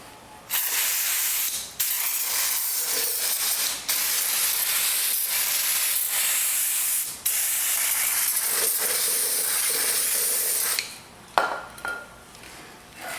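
An aerosol can of brake cleaner sprays onto a brake rotor from a Dodge Challenger RT in long loud hissing bursts separated by short pauses, followed by faint clinks at the end.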